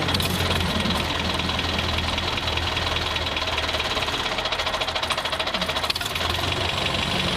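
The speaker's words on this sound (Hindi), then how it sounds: "चलो भाई ड्राइवर, तुम अपने ट्रैक्टर को स्टार्ट करो" A toy tractor's motor sound runs steadily for about seven seconds, a continuous rattling, knocking engine drone heard alone and fairly loud with no talk.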